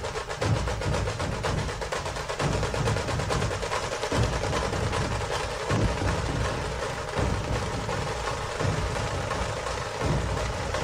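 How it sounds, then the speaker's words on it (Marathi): Dhol-tasha drums thunder at a Kasba Ganpati immersion procession in Pune, a loud continuous rolling beat with steady pulsing rhythm and crowd noise, no clear talk over it. "आणि ढोल ताशाचा गजर आपल्याला ऐकायला"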